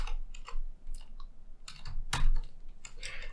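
Computer keyboard typing: irregular bursts of clicking keystrokes close by, with a sharper louder tap near the middle and brief pauses between runs, no voice over it.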